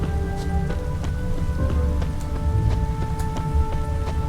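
Steady rainfall in The Witcher 3: Wild Hunt, a soft continuous patter on surfaces with scattered drop ticks over a low hum, moderately quiet and uninterrupted by talk.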